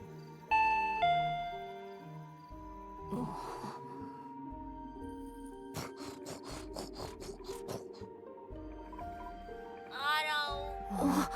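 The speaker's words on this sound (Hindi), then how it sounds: "घंटी बजाओ, सोचो मत।" A doorbell chimes inside a house in an animated drama, a clear ringing tone near the start, followed by a busy mix of music, soft rustling and a few sharp clicks.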